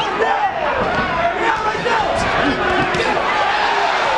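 Loud, sustained boxing arena crowd noise with scattered shouts rising and falling, an energetic audience cheering throughout a professional fight.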